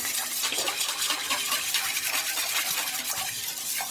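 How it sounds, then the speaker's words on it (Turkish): The liquid ingredients for Turkish Ramadan pide dough are stirred in a bowl, giving a continuous close swishing and sloshing with light clinks from the utensil against the bowl. "Sadece burada bunu biraz karıştırdıktan sonra tuzum ve unum kalıyor. Biraz karıştırıyorum."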